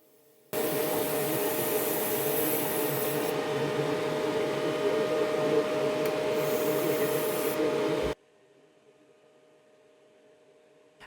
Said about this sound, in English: carefully draw a continuous weld seam with the laser